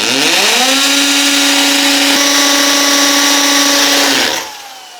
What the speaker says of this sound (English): I'm going to put the masonry drill bit into the concrete, and I've got it on hammer drill